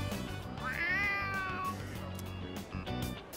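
A cat meows once with a rising, drawn-out cry in Persona 3 Reload, loud and close over steady game background music.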